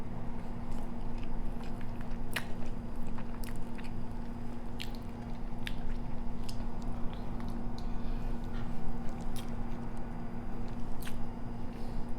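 Someone close by chews soy sauce marinated hard-boiled eggs with soft, wet, squishy mouth sounds and occasional sharper bites over a steady low hum, with no talking.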